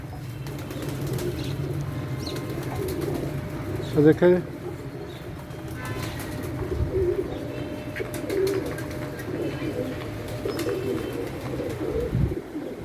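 Pigeons at feeding time in caged lofts with grain trays, cooing softly with a brief burst of wing flapping, heard close under steady speech from a man.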